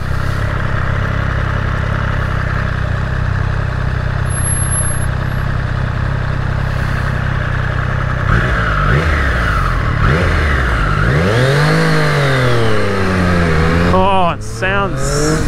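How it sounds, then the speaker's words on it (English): A 2020 Triumph Street Triple RS engine steadily droning under speech, then revving up and down with quick-shifter gear changes, the pitch sweeping and climbing sharply near the end. "Oh, that quick shifter is silky, silky smooth."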